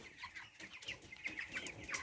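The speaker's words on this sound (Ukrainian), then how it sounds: "Що ти вже пасеш курей?" Several broiler chickens cluck in short, scattered bursts at close range, a busy, continuous chatter with no voices over it.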